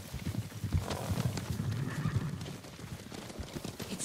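Galloping horses in Ghost of Tsushima thunder in with dense, rumbling clip-clop hoofbeats and a brief whinny, loud and close, keeping up a steady pounding rhythm for the whole stretch.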